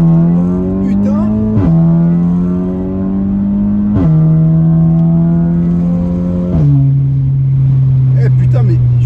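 An Audi S3 in sport mode accelerates hard, the engine climbing in pitch through three quick upshifts, each marked by a sharp drop and brief pop before revving up again, loud and close from inside the car.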